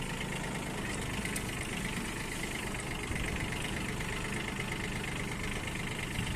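A Mitsubishi MT16 mini tractor engine runs steadily at idle-like speed in first gear, a continuous low rumble with a faint mechanical rattle, close by and unbroken throughout.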